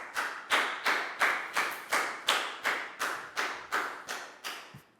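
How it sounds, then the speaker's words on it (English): Students in a Year 4 maths class clap together in a slow, steady rhythm, about a dozen loud, even claps spaced roughly every third of a second, with no talk over them. "Big round of applause for Net"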